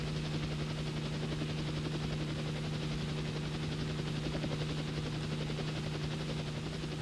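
A helicopter in flight during US Army research and development testing, giving a steady, dense rotor and engine drone with a constant low hum that stays unbroken throughout.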